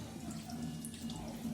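Water gushes steadily through a reverse osmosis membrane being flushed clean, a dense, continuous splashing rush with a low hum, close and unbroken throughout.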